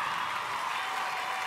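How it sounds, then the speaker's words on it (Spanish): Girls and boys in a studio audience applaud at a television show presentation, a dense, even burst of clapping that stays constant and fairly loud throughout. "Le aplauden las chicas, los chicos."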